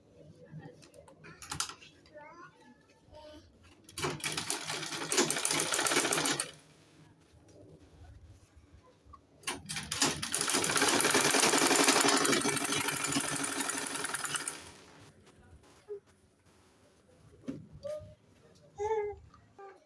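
Sewing machine stitching a sleeve for a bubu dress, two longer bursts of steady mechanical whirring with quieter handling and short runs around them, and a voice speaking at moments.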